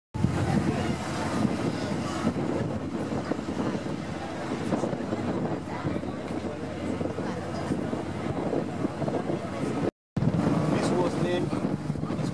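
Constant rumbling engine and wind buffeting from a moving boat crossing toward the capital in Senegal, loud and unbroken, with a brief cut near the end.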